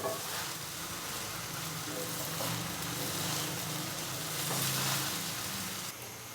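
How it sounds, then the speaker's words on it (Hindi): Garlic chicken rice with butter stir-fried over a high flame, a loud, steady sizzle close by with continuous stirring and tossing that swells briefly near the end, no talking. "तो नीचे फ्लेम जो है वो हाई ही रहना चाहिए। तो जल्दी जल्दी हमने इनको मिक्स कर लेना है।"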